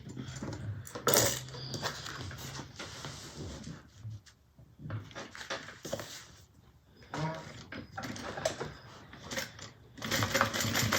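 A sewing machine top-stitches a bag in several short, clattering runs of rapid needle strokes, separated by quiet pauses, with light clicks and handling noises between the bursts.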